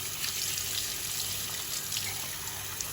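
Tap water runs steadily over a glass being rinsed clean of etching cream in a sink, a continuous close hiss and splash without speech.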